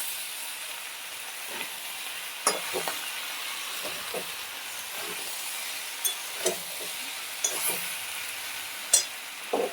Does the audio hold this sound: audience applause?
no